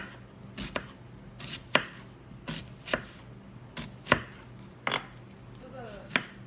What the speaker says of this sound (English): I am going to prep my onion, and you just want it minced